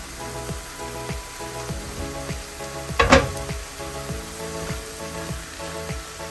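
Blended tomatoes cook down in a covered pot for an omena dish, giving a steady close sizzle and bubbling with faint rhythmic ticking and one louder clatter midway, no talking.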